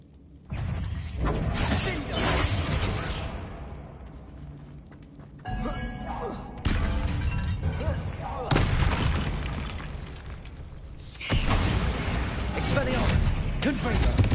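Bombarda exploding spell cast in the Hogwarts Legacy video game, heard as several loud booming blasts and crashes with debris, repeated across the stretch alongside game effects and a voice.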